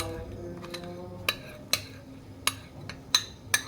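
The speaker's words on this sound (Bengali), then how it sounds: "এখন আমি অনবরত নেড়ে নিচ্ছি" A utensil stirs semai pudding mixture in a pot, making soft sliding sounds broken by about six sharp metallic clinks against the pot's side, spaced unevenly and close by, with no talk.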